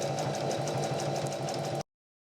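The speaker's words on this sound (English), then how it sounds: "So now I'm just going to stitch down the length of our straps" A sewing machine runs steadily, stitching down tote bag straps made from scrap fabric, a close, even mechanical whir that stops abruptly.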